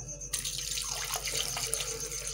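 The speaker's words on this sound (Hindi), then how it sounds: "इसके अलावा हम थोड़ा सा पहले पानी डाल लेते हैं" Water splashes steadily into a juicer jug for a strawberry shake, a loud continuous close pour that starts abruptly and runs to the end.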